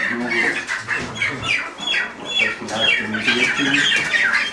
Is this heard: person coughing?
no